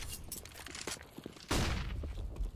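Gunfire from a grenade-and-rifle exchange in a competitive esports first-person shooter match, a sharp burst of shots and an explosive blast arriving midway and sustaining loudly, over earlier quieter scattered game sounds.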